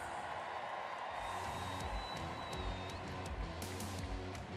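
Rodeo arena crowd cheering and whooping on a calf during a calf scramble, a steady wash of distant crowd noise with scattered high whistles and shouts throughout.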